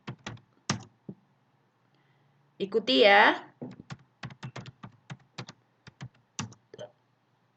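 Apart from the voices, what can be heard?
typing on a computer keyboard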